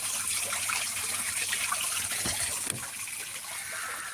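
Water flowing steadily through the new filtering of a renovated fish pond on a farm, a continuous close trickling and gushing wash with no voices.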